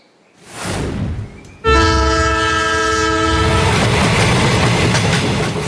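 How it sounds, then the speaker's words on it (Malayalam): The Egmore–Guruvayur Express speeds on past Kayamkulam in the pre-dawn hours, its rumble rising before a loud, sustained horn blast rings out over the continuous roar and rattle of the moving train. "എഗ്മോർ ഗുരുവായൂർ എക്സ്പ്രസ് കായംകുളം പിന്നിട്ട് മുന്നോട്ട് കുതിക്കുകയാണ്"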